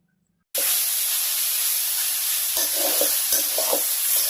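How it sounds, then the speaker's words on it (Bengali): Fried kolai shak greens are stirred in a hot pan after a brief silence, producing a dense continuous hiss and sizzle with a few soft scraping strokes near the end. "এইভাবে আপনারা বড় একটা প্লেটে ঢেলে একটু নেড়ে চেড়ে দিবেন"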